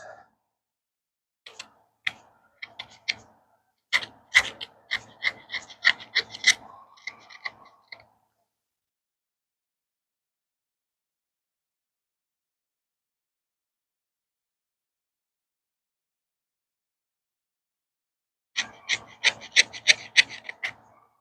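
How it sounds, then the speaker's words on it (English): The jimped spine of a SOG Altair FX knife scrapes in two bursts of short rasping strokes, the first run lasting several seconds, then a long silence before a second quick run; close and fairly crisp. "But it's scraping pretty good."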